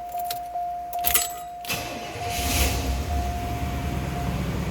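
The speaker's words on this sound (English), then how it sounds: "Let's go ahead and start this up." A 1991 Cadillac Brougham d'Elegance starts: a warning chime tones and keys jingle in the ignition, then the engine cranks and catches, settling into a smooth, steady idle up close.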